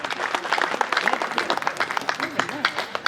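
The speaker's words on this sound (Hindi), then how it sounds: "आपकी प्रेम की तालियां मांगता हूं" An audience applauds at a Hindi poetry gathering in Lakshmanpuri, brisk, uneven clapping from a moderate crowd with voices audible through it, fairly close.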